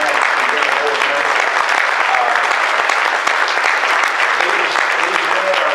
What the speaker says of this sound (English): Would you be willing for them to stand up and let us all applaud them for the good job?